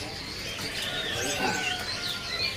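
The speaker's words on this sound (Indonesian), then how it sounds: "Ini ada burung kadalan besar ya." A large kadalan bird calling at a bird-market kiosk, soft chirps and coo-like notes amid busy background noise and other birds.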